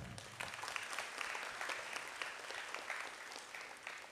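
Steady applause from a congregation welcoming guests at a Catholic parish Mass and Marian flower-offering celebration in Vietnam, a dense crowd of clapping sustained evenly for about four seconds at moderate distance.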